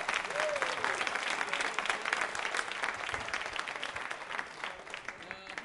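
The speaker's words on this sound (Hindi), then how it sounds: "तालियां जोरों से बजाइए" Studio audience at a Diwali quiz show for music lovers claps steadily and loudly for several seconds, a dense wash of hands with a few cheers mixed in, tapering slightly toward the end.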